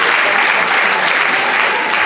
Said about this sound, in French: On va applaudir, s'il vous plaît, Madame Ghislaine Nanga